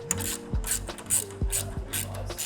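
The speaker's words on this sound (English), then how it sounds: "then you can go ahead and tighten the hardware down" Hardware on the clamps of an eco system small basket bike rack being tightened, heard as a run of quick close ratcheting clicks in short bursts, with no talking.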